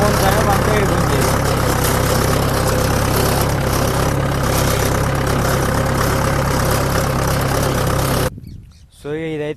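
A farm tractor engine pulls a disc plough through a field, a loud, steady low drone for about eight seconds before cutting abruptly to quieter chirping.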